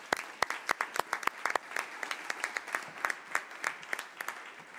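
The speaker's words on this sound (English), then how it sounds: "we need to applaud everybody here for the work that they are doing" Applause rises from the audience at a health roundtable: several seconds of rapid, distinct claps from a smallish group, moderately loud and close, with no talk over them.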